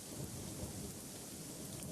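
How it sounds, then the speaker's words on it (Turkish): Steady rain falls on a forest canopy, a dense continuous hiss with a low rumble of thunder underneath. Rainfall and thunder stay even and unbroken throughout, with no voices. "Günlerdir hem gökten hem dallardan yağıyor."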